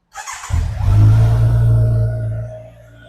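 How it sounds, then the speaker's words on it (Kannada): A used superbike with its stock exhaust revs hard from idle, a loud, close engine roar that swells quickly, holds steady and then tapers off, with no talking over it. "ಆ್ಯಂಡ್ ನಮ್ಮ ಪ್ರಕಾರ ಸ್ಟಾಕ್ ಎಕ್ಸಾಸ್ಟೇ ತುಂಬ ಲೋಡಾಗಿ ಬರುತ್ತೆ ಈ ಗಾಡಿಯಲ್ಲಿ"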